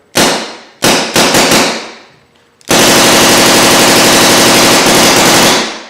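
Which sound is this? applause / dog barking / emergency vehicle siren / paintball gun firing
paintball gun firing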